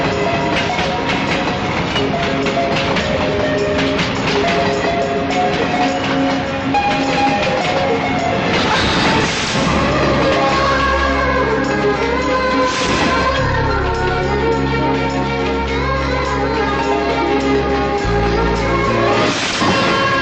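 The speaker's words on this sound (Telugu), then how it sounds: "ఆ రోజు ఎప్పట్లాగే బాండ్రా రైల్వే స్టేషన్లో నడిచొస్తున్నాను" A train rumbles through Bandra railway station with a steady rolling clatter and shifting mechanical noise, loud and continuous, mixed with other tonal sounds.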